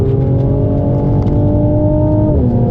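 A tuned 460 BHP 2020 Mercedes-AMG C43 Coupe drives on a country road, its engine a loud, continuous in-cabin drone holding steady pitch, then dipping briefly near the end as revs shift.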